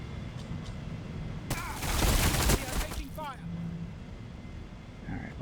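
Necron units in Warhammer Battlesector unleash a loud burst of energy gunfire, a dense crackling volley lasting about a second amid ambient battle hum, followed by whooshing sweeps and faint unit chatter.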